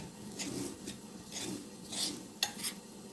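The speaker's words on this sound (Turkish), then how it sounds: "Şimdi de tuzunu da atıp bunu güzelce bir karıştırıyoruz" A spoon stirs a runny dough soup mixture in a pot after salt is added, giving soft repeated scraping and swishing strokes with a few sharper clinks against the pot, fairly quiet and with no talk.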